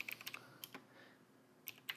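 Quiet bursts of typing on a computer keyboard while entering terminal commands on a Proxmox web interface: quick clusters of clicky keystrokes, then a short pause, then a few more taps near the end.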